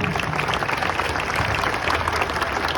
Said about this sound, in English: I just want to have a big round of applause for all of our wonderful panel.